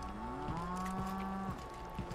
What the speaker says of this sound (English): Why are there cows in here?